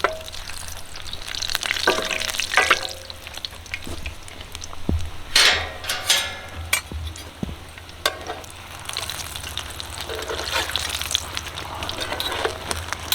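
A chicken chimichanga fries in a pan, its oil sizzling steadily up close while the top crisps, with occasional scrapes and stirring clatters of a utensil against the pan.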